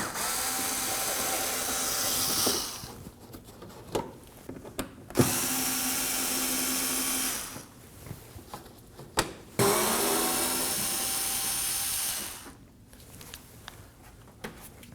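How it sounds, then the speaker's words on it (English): Power drill backing three Phillips head screws out of the inner fender well of a 2014-2020 Acura MDX, three loud sustained whirring bursts separated by quieter pauses with small clicks, close by and no talking. "removing these 3 Phillips head screws"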